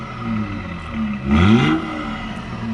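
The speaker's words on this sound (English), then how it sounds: "Now that it's warmed up, give it a few revs," A Volvo S60 T6 engine with a newly installed downpipe runs steadily, warmed up, then briefly revs up and falls back to a steady run, heard close by with no voices.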